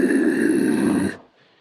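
A human voice imitates a bear's growl, a single rough, throaty rumble held steadily for about a second before cutting off, loud and close with nothing else behind it.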